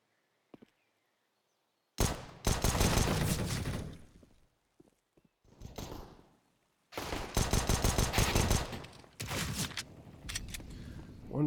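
Rapid bursts of rifle fire during a competitive Counter-Strike match, loud clustered volleys and fusillades with short gaps and a few isolated shots between them.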